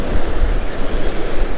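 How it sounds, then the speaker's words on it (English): Strong gusts of wind buffet the microphone with low rumbling bursts while fishing outdoors, and surf or water churns steadily underneath. "It's getting a bit windy."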